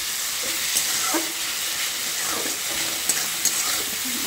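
Masala frying in oil for a prawn and egg biryani sizzles steadily in a pan, with a spoon scraping and stirring in irregular strokes and a couple of light clinks.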